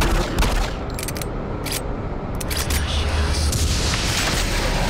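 Pistol gunfire in Doom 3 BFG Edition, Resurrection of Evil, echoing through narrow corridors; a dense, continuous stretch of booming shots and blasts with a reverberant rumble, loud and near throughout.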